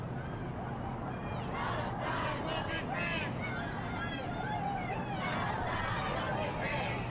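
A New York City street protest over the Israeli-Palestinian war as the crowd draws closer, with loud rhythmic chanting and shouting from many voices over a constant rumbling hubbub.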